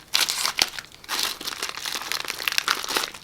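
Crinkly plastic food packaging rustles and crackles as it is cut open with a blade in a kitchen, several close crumpling bursts over a few seconds, with no talking.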